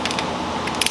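A torque wrench set to 20 foot-pounds ratchets in quick, close clicking bursts while snugging down bolts on a 2006 Arctic Cat M7 snowmobile, ending in a few sharper clicks.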